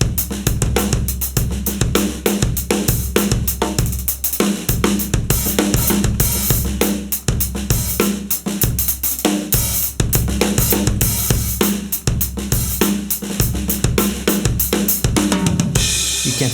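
A full drum-kit groove dressed up with rapid 32nd-note fills, dense kick, snare and cymbal hits driving continuously and loudly, close-miked with no voices.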